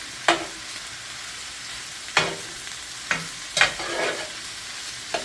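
Tofu chunks stirred in a hot frying pan while making pad thai, with a soft background sizzle and four or five sharp scraping stirs spaced about a second apart.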